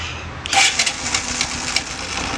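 Bajaj Platina BS6 motorcycle engine catching after a remote start and settling into a steady, close idle, with a few sharp clicks and rattles as it fires up.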